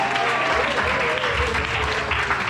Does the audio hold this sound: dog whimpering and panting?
no